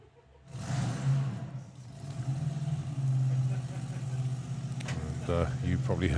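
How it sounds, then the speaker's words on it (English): A drag racing car engine fires up at a sportsman nationals meet, catching suddenly and settling into a loud, rough, lumpy idle with slight revving, heard from nearby with crowd and voices talking underneath. "the engine bursting into life"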